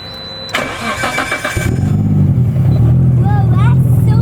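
A 600 HP Nissan R32 GTR cranks over with a starter whir, then catches and settles into a loud, lumpy idle close by, with a brief voice reacting near the end.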